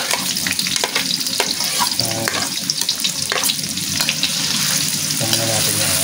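Onion and garlic frying in a pan, a steady loud sizzle with crackling and occasional stirring scrapes throughout, close up and alone.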